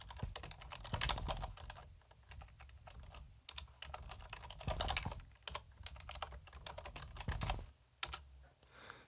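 Steady keystrokes on a computer keyboard as a name is entered, a close, continuous clatter of clicks with brief pauses and a few heavier taps.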